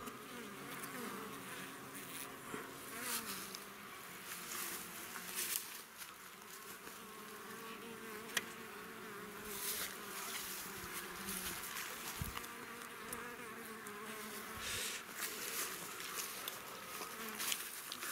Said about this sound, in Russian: ну теперь посмотрим, как пчелки забирают наш сироп